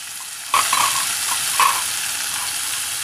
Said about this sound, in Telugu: ఇది వేగిపోయింది కదా తాలింపు, ఇప్పుడు నేను దీంట్లో చుక్క కూర వేసుకున్నాను